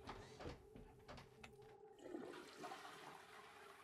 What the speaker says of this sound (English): You flush a toilet.